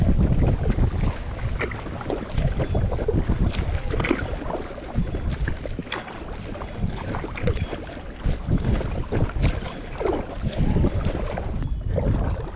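Inflatable Freein Explorer tandem kayak gliding across open water, with continuous wind buffeting the microphone and steady rushing, splashing water throughout, loud and close.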